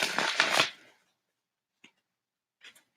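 A tarot card deck is shuffled in a brief riffling flutter lasting under a second, followed by quiet with a couple of faint card taps.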